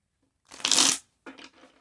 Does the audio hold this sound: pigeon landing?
no